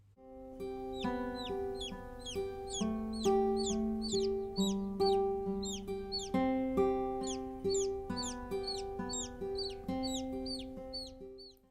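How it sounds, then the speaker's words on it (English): A young chick cheeping steadily, a continuous run of high, bright peeps repeating in quick rhythm over a droning background of lower sustained tones, close and fairly loud throughout. "I'm going to show you a cute video of a chick"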